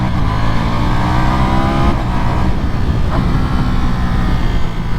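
A 2025 Ducati Panigale V4 engine roars loudly and close while downshifting with a quickshifter, revs dropping in stepped blips amid constant wind rush, with no talking.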